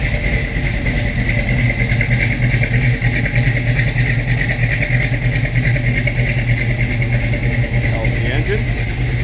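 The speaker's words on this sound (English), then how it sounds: "Nice little rumble out of that V8." A rebuilt 440 V8 engine in a 1970 Dodge Challenger R/T idles close by with a steady, deep rumble that holds an even, unchanging pitch throughout.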